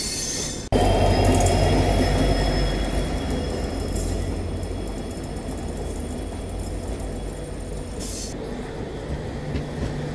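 A train hauled by an EMD diesel locomotive rolls past on an Indian railway route, a loud, steady rumble of wheels and carriages that begins abruptly and continues close by throughout.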